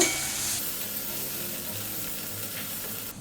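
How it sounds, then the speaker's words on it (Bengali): Turmeric, dried chilli, cumin and coriander powder sautéing in hot oil, a continuous even sizzle that stays soft and fairly quiet. Close, with no voices. "দিয়ে দেবো হলুদ শুকনো লঙ্কা জিরা পাউডার ধনে পাউডার একটু কষে নেব"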